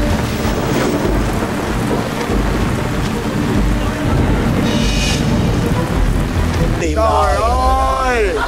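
Steady heavy rain falls outdoors with rumbling thunder-like noise throughout, loud and close, and a brief higher whooshing near the end.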